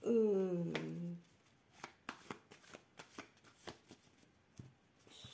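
Tarot cards are shuffled for a reading in a series of soft, crisp riffles and taps, close and fairly quiet, following a brief spoken word at the start.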